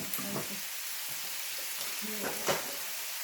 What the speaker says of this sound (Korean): 삼겹살을 굽고 있습니다